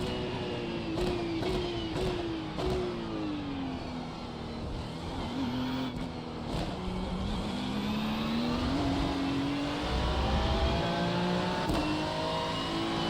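A Ferrari GT3 race car lapping Spa in the iRacing simulator, its engine howling continuously and rising and falling through gear changes, with brief sharp shift cuts and other cars around.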